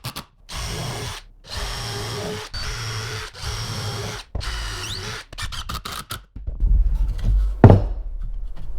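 A power drill boring pilot holes into a Kubota BX2380 ballast box, running in several loud bursts separated by short pauses, ending with a sharper grinding bite near the end.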